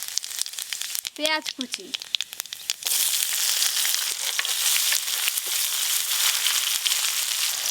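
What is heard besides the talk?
whole cumin and bay leaves sizzling in hot oil for aloo dum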